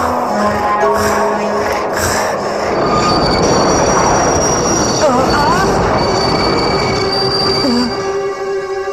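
An animated subway train rumbles along loudly, its wheels letting out long, high-pitched squeals and screeches that rise and fall as the cars move through the tunnel.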